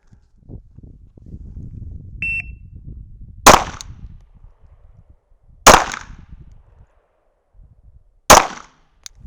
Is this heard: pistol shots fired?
yes